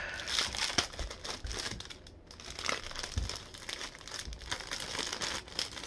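Crinkly plastic childproof packaging from a small shop being worked open by hand, with close, busy crumpling and tearing rustles that pause briefly before resuming, without any talking.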